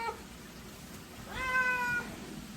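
A longhaired cat with severe matting gives a single close, drawn-out meow partway through a grooming session, against a quiet room background.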